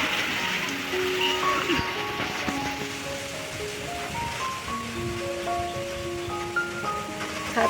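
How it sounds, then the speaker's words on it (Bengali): Rain patters steadily on a tin roof over a house, a dense, even hiss of drops with faint scattered taps continuing without pause at moderate, close loudness. "বৃষ্টির ফোঁটা পড়ছে আওয়াজ পাচ্ছ তোমরা"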